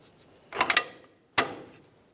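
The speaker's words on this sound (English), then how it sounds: "slide the caliper with your inner brake pad into position" Brake caliper holding the inner brake pad sliding into position on a 2010-2013 Ford Transit Connect: two short, close metallic scrapes and clunks, the first a quick rattle and the second a single sharp knock, alone in quiet.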